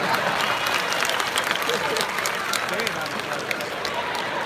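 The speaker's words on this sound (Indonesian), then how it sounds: "tepuk tangan" Audience applause at the opening ceremony of the 2022 Bali Arts Festival (PKB) at the Ardha Candra Art Center, a dense, steady wash of many hands clapping at moderate distance, lasting several seconds.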